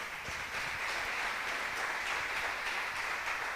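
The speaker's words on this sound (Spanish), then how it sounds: "Dese un aplauso a usted mismo, mi hermano." Congregation applauding during a Spanish-language church sermon, a steady, fairly quiet wash of clapping held evenly throughout with no voices over it.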